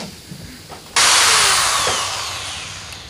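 A power drill drives screws into the wooden hull of a homemade jet boat, starting abruptly as a loud, close whirring burst that holds steady for about two seconds before easing slightly.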